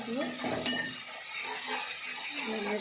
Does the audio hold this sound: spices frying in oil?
yes